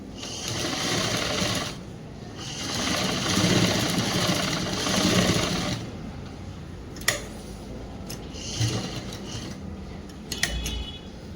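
A sewing machine stitches a government school uniform blouse in fast whirring bursts that pause and restart. Light clicks and handling sounds fill the gaps, and no one talks.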